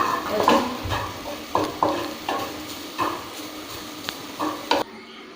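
Grated coconut dry-frying in oil in a pan for chicken sukka, with a steady sizzle broken by repeated scraping stirs of a spoon against the pan, close and fairly loud, no voices.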